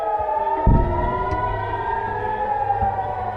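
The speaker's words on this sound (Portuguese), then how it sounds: "soaram as sirenes de alerta para ataque aéreo" Air raid alert sirens wail across Israel during a night missile attack, a loud, sustained steady tone holding for several seconds with a low thud and rumble underneath, and no voices.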